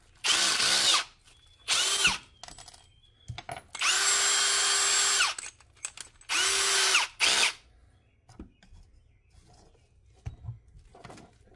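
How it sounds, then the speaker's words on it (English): A power drill bores a pilot hole for a bolt while building a copper pipe CB antenna, heard as several separate close whirring bursts of one to two seconds each, with pauses and faint handling noise between them. "Okay, I'll pilot a hole."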